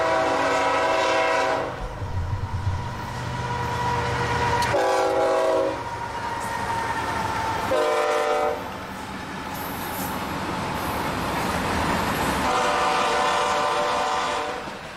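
Freight train led by a BNSF GE locomotive with a Ferromex EMD unit, sounding loud repeated horn blasts as it rumbles past close by, followed by steady rolling wheel noise.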